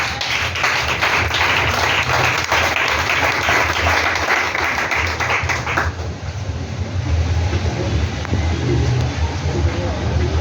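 A church congregation applauds to acclaim Jesus, a dense, loud wash of clapping that carries on steadily and thins slightly toward the end, with voices mixed in.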